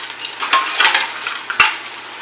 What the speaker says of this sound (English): we're going to take all our lobster shells that we just roasted and put them all in there